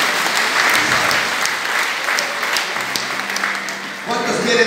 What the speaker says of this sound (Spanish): Regalo un voto de aplauso para todos.